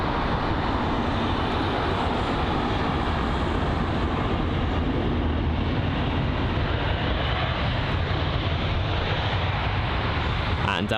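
British Airways flight BA 347 from Nice arrives at London Heathrow with a steady, broad jet roar that holds at full strength throughout and eases off slightly at the end.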